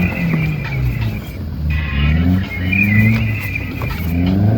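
A car reverses and revs on a snowy road in Manali, its engine rising and falling with wheel-spin whine close by, while people talk over it.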